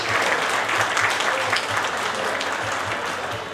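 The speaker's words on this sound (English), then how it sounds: "once again a huge round of applause" A crowd at a stage event claps in a full, sustained round of applause that holds at an even level throughout, with only faint voices underneath.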